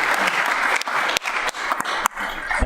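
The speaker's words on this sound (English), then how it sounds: "Let's have a round of applause for him." Audience at a city council meeting applauds in a steady, moderately loud burst of clapping, briefly interrupted by sharp knocks and thumps.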